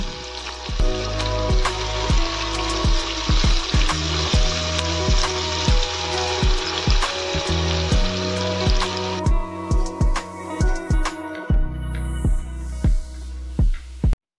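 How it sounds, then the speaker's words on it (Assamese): Crackling and spattering of thinly sliced onions frying in hot mustard oil, steady and close, with sharp pops and clatters throughout. "তেলৰ পৰিমাণ আৰু অলপ বঢ়াই তাতে মিহি মিহিকৈ স্লাইচ কৰি লোৱা পিঁয়াজটো ৰঙচুৱাকৈ ভাজি ল'ম"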